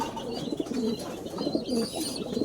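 Pigeons coo in a breeding loft, several low throaty calls overlapping in a soft repeated rhythm, close and moderately loud.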